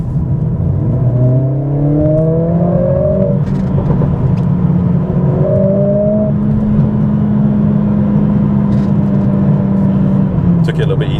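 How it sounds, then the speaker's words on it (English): A Mercedes CLA45s AMG with a new aftermarket exhaust and a high-revving engine pulls through rising gear sweeps, then settles into a steady drone, loud and close from inside the car. "a phenomenally fast engine, super high RPMs, sounds incredible now"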